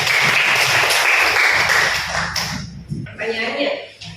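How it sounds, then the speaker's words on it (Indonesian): Students in a classroom break into applause, a dense burst of clapping that fills the first couple of seconds and then thins into scattered claps and voices. "Tepuk tangan."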